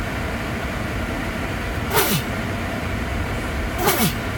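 Two short sneeze-like bursts, the second about two seconds after the first, rise briefly above steady background noise with no talk.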